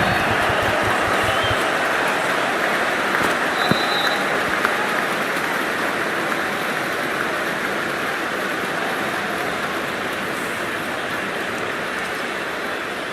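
A stadium crowd in the cricket video game Cricket 24 applauds and roars during a tense IPL last over between SRH and MI, a dense, continuous wash of clapping and cheering at an even level throughout.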